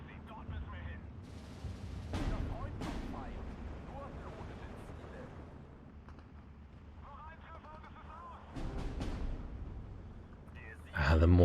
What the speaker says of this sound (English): The mortar round went into the Grenadier there.